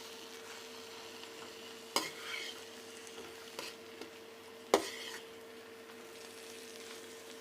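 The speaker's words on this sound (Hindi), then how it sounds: "मैं इसमें हरा धनिया जो है वो शामिल कर दूँगी और हम इसे अच्छे से मिक्स कर लेंगे।" Kachori masala with fresh green coriander is stirred in a pan over a low, faint sizzle, with two sharp spatula knocks against the pan and a few softer scrapes, close but quiet with no talking.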